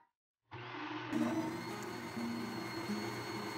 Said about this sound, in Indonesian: Sekarang kita blender ya.